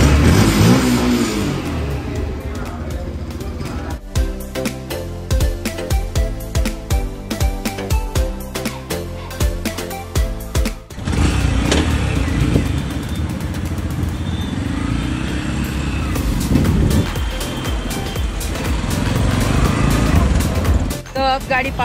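A new motorcycle engine starting and revving close by, with a rough idle and repeated throttle blips rising and falling, while people talk over it.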